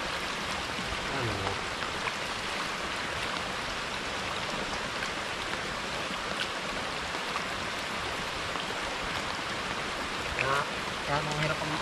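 Rain falling on a rural farm during planting, a constant hiss of drops on surfaces heard close, with brief voices and a few faint duck-like calls in the background.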